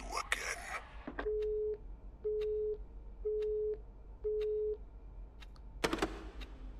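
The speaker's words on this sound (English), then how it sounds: "That phone call was in very bad taste." A phone busy signal plays after a call in the horror game Luto: four evenly spaced steady tones, each about half a second, between brief clicks and handling noises.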